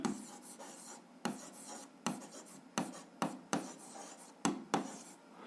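Pen or chalk scratching out notes by hand during a 7th-grade algebra lesson on linear functions, a steady rasping stroke broken by several sharp taps and pauses, close and fairly quiet, with no talking.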